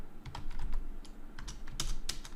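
Clicky keys on a computer keyboard tapped in an uneven burst of keystrokes, close and fairly quiet with a faint hum underneath.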